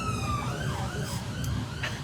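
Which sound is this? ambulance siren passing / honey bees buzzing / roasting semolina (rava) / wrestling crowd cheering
ambulance siren passing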